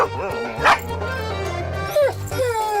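Small dog yips and barks repeatedly, close and fairly loud, with short high bursts over a busy background of voices and music.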